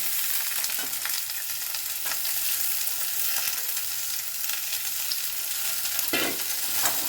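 Chopped vegetables for pav bhaji hit a pan of lightly browned onions and fry with a steady, dense sizzle, while a spoon stirs through them in occasional scraping strokes close by.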